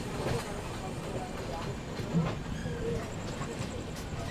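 Humsafar Express train on the Pune–Kolkata route via Bilaspur, a steady low rumble of wagons rolling on rails with faint rhythmic clicks, fairly quiet and continuous.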